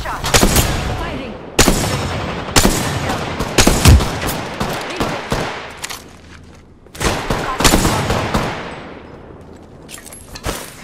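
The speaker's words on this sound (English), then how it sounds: "I'm taking shots. Firing." Gunfire from the Apex Legends video game: bursts of rapid shots and heavy booms arrive in several loud clusters, with brief pauses between volleys and a low thump near the middle.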